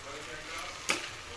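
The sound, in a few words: thinly cut vegetables frying in a pan with salt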